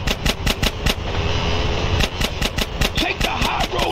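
Rapid automatic gunfire bursts in Grand Theft Auto: San Andreas, loud sharp shots repeating in quick clusters over a steady rumbling engine or train background.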